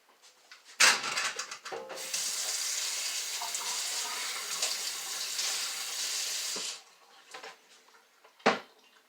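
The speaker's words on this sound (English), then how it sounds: "I'm going to give my hands a rinse because my eyes are burning a little bit." A kitchen tap runs for several seconds as hands are rinsed under the stream, framed by a few sharp clunks and knocks before and after the water.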